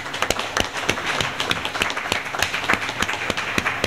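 Audience at a community gathering in Limete applauds for an official, a steady patter of many hands clapping at moderate distance with no talk over it.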